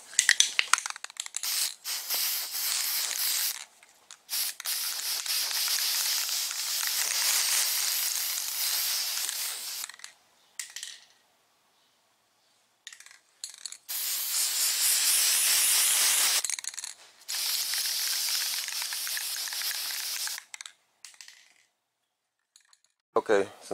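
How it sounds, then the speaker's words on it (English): Long bursts of flat black aerosol spray paint hissing onto fiberglass car door panels as a guide coat, broken by short pauses, with a faint rattle and handling noises between passes. "Now I spray my guide coat on there."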